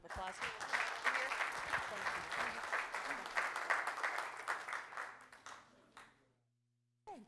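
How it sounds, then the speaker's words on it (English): Round of applause from the audience at a city council proclamation ceremony, dense clapping for about six seconds before fading out, with a brief voice after the silence. "we'll give them a nice round of applause"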